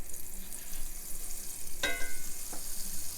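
Olive oil and butter sizzling in a pan as they are stirred, a faint steady fizz with one sharp clink of a utensil midway and a softer knock after it.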